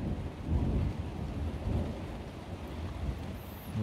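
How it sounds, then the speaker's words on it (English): Heavy rain pours steadily through a massive lightning storm in south east England, with low rumbles of thunder swelling and fading across the whole stretch, close and loud, with no talking. "Rain's picking up again."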